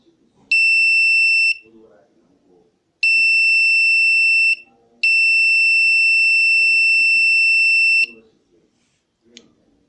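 An Arduino ultrasonic security alarm sounds in steady high electronic beeps, three long bursts separated by gaps, with quiet background murmur between them.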